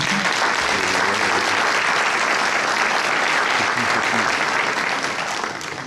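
A crowd at a municipal council installation ceremony in Bessan gives sustained, steady applause for a newly installed mayor, which fades slightly at the very end.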